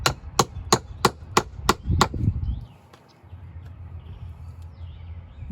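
An awl makes holes in wood for an N scale model railway layout: seven sharp, evenly spaced taps in quick succession, then a softer knock and quiet rustling follow. No voices.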